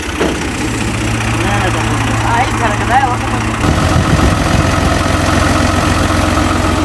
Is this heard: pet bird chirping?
no